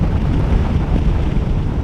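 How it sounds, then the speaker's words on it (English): Strong wind roars steadily against the microphone, a continuous low rumbling buffet that never lets up for the whole stretch. "It's still dang windy, as you can probably hear."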